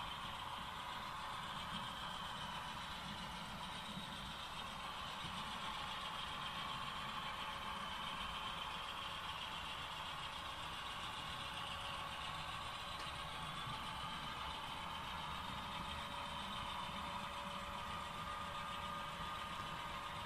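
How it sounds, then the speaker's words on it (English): An HO-scale model diesel locomotive hauls a long 105-car freight train into a yard, giving a faint, steady engine drone with a soft mechanical hum that runs unbroken and alone. "we are now pulling this 105-car train back into the yard"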